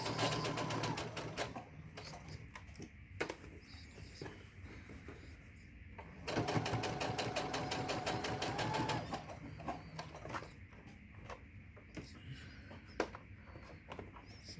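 A sewing machine stitches a fabric face mask with a filter pocket, running in steady bursts of rapid mechanical whirring with short pauses between seams, close and fairly loud.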